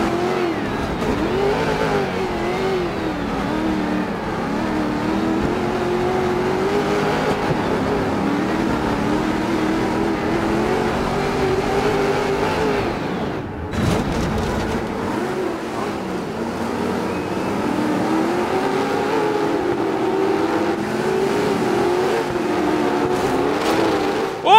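Rally car engine in the racing video game DiRT 4, loud and sustained, revving up and down through gear changes with a brief dip midway before accelerating hard again.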